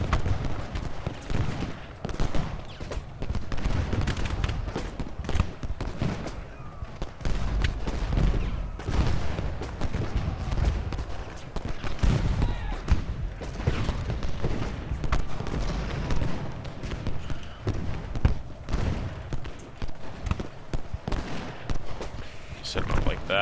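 Infantry advancing and firing in the video game Ultimate General Gettysburg: continuous crackling musket volleys and rumbling battle noise throughout, with someone talking over the din.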